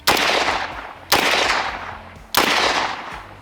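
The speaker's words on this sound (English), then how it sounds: "that's me shooting at small targets very far away" Three sharp, loud pistol shots from a Tokarev firing 7.62x25 rounds at targets, each a sudden crack followed by a long fading echo, spaced roughly a second apart.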